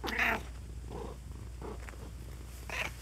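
A cat purrs steadily and low up close, with soft rhythmic breathing pulses and a couple of brief higher chirps layered over the continuous rumble.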